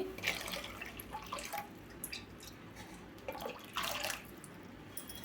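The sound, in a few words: cornflour-water mixture poured into sugar water in a pan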